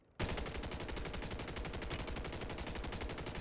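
Sustained rapid automatic gunfire in Call of Duty: Warzone bursts in sharply after a quiet moment and keeps going without pause, loud and close.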